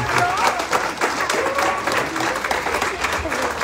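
A church congregation at a chaplain graduation in Reno, Nevada claps vigorously in praise to God, a brief burst of dense applause with voices mixed in.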